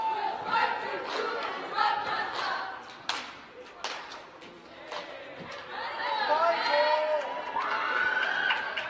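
Crowd at a high school basketball game, York Tech versus Biglerville on 50s and 60s theme night, roaring and shouting as Spartan cheerleaders rally them, with a commentator talking over the steady cheering and a few thuds.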